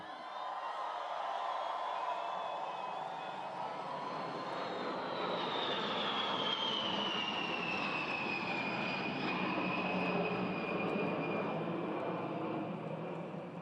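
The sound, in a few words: B-52 bomber aircraft flying overhead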